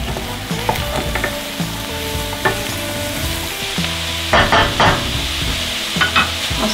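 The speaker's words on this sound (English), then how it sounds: "And saute that for 2 minutes. Now at this point, I put in my chopped ribs." Chopped chard ribs sautéing in a pan for Southern-style braised chard, with a close, steady sizzle and frequent scraping and stirring of a utensil, growing busier toward the end.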